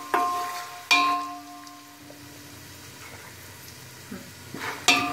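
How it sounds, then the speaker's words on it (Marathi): Peanuts frying in a pan for puffed rice chivda, a soft continuous sizzle with a few loud scraping stirs at the start and end. "शेंगदाणे बघा चांगले फ्राय झालेत, आता थोडेसे लालसर, पण करपून नाही द्यायचे"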